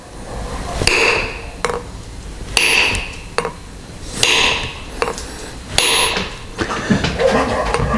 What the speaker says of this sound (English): by hammering in the middle, the concave